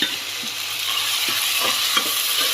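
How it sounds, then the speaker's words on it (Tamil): Tomato and green chillies sauté in a pan for a watermelon gravy, giving a steady close sizzle broken by soft scraping stirs throughout. "அதையும் இதில் போட்டு நல்லா வதக்கி விட்டுருங்க"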